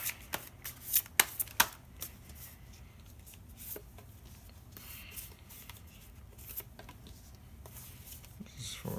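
Oracle cards are handled and shuffled close up, with soft riffling and sharp flicking snaps early on, then quieter rustling and sliding of the deck.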